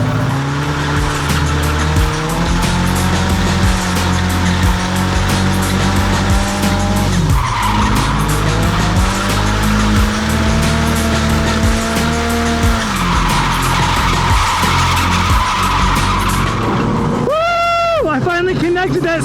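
Old, worn tires on a boosted Nissan 240SX spin and skid on a race track, a loud droning engine with long shifting tire squeal throughout and a sharp rising screech near the end.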